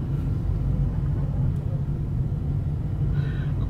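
A car driving across Hoover Dam on the route from Las Vegas, with a steady low road rumble and engine drone throughout, close and continuous, with no voices.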